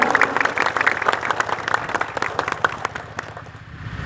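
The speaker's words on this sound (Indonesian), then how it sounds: "Tepuk tangan untuk beliau." Audience applause at an Indonesian community gathering in Losarang, Indramayu, with steady clapping from a crowd that fades toward the end.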